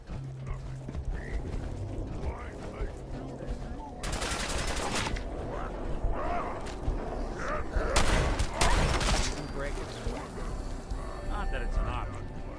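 Rapid gunfire bursts in the video game Fallout 4, loud clusters of shots over continuous game noise, with someone talking throughout.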